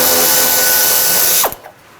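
A tool spins out an 8mm screw from the front fender flare of a 2007-2014 Chevrolet Silverado 2500 HD, a loud close whirring grind that stops abruptly, followed by a faint rattle.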